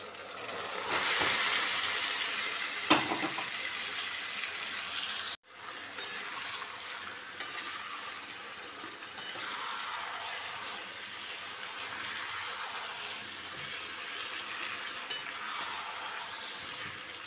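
Chicken legs sizzle and spit in a hot pan for curry, a soft steady crackle with a brief louder burst and a clunk of the pot early on, settling into a gentle continuous fry.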